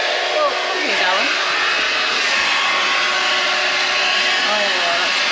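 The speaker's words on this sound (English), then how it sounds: "Got to show the ladies that might like this hair dryer" A household 240v hair dryer runs steadily and loud throughout, a constant broadband whoosh with a faint voice briefly heard over it.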